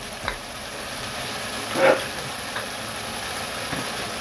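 Ginger and garlic paste with onion paste fries in oil in a pan, giving a steady close sizzle with a brief stirring scrape partway through.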